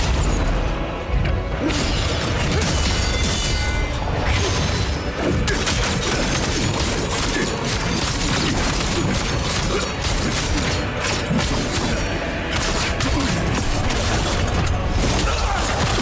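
Explosions and crashing impacts fill a boss fight against Ozma in The First Berserker: Khazan, a dense, loud, continuous barrage of booms, rattling debris and metallic clatter with no let-up.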